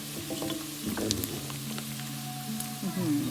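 Salted pork belly stir-frying with ginger in a pan gives a steady close sizzle, with occasional scraping and stirring over it.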